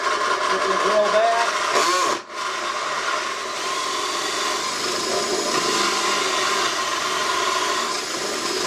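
A power drill whirs continuously at high speed, boring into wood for bee hive ventilation boxes, with one brief dip in the noise before it resumes.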